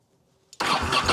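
A motorcycle engine, newly fitted with a $30 replacement battery, cranks briefly and catches, jumping from near silence into a loud, steady running rumble.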